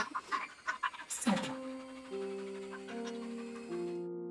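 A dog pants in a quick run of close, rhythmic breaths, which give way to sustained steady tones.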